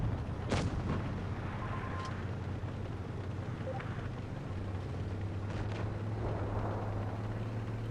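A single heavy tank cannon shot booms early in a tank battle video game, followed by a later second blast, over a constant low engine rumble and faint distant firing.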